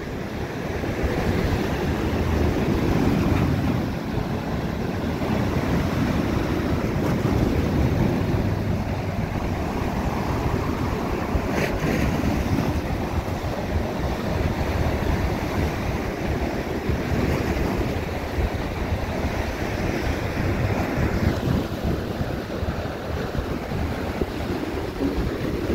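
Sea waves surge and crash against the Blackpool seafront at high tide. A steady roar of surf mixes with wind noise on the microphone, and nobody speaks.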